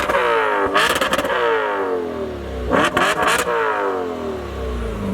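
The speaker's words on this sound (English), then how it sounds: "So we should be completely sanctioned to do a rev war between the 3 high revving V8 muscle cars." Audi high-revving V8 muscle car engine revs hard twice, each blip climbing sharply and bouncing off the limiter before falling back to a loud, steady idle, heard up close with no talking.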